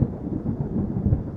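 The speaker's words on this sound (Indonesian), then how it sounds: "Tiba-tiba datanglah badai besar menghantam kapal Malin Kundang." A low, rolling thunder rumble at sea with heavy rain, a dense continuous roar that swells and dips over a second and a half, loud and close with no voices.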